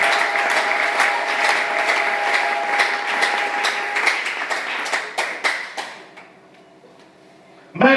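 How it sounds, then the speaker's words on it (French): Church congregation applauding in a large hall, a dense sustained roar of clapping from many hands that thins into scattered claps and fades near the end. "Acclamez pour la gloire"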